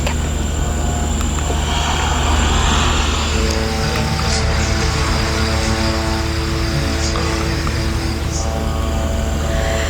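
Fighter jet aircraft droning and whirring overhead near Nabatieh in southern Lebanon, a loud, steady engine roar with a tonal hum that persists unbroken throughout, with no voices.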